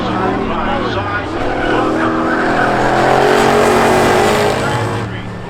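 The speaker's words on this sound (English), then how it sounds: "Here Camaro racing side by side." Camaro race cars run side by side at Seekonk Speedway, engines roaring loud and close with a steady, swelling drone that builds and fades, with a voice talking over the racing.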